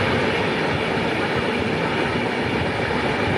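A Kumbh Mela special train from Howrah to Prayagraj rumbles steadily from inside a carriage, a dense continuous roar of wheels and motion with faint rhythmic clicks, loud and close throughout with no talk.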